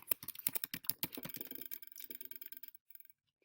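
Fingers type an email address on a computer keyboard in a rapid, steady patter of close, quiet keystrokes that slows and stops near the end.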